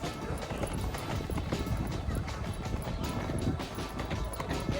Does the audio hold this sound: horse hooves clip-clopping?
yes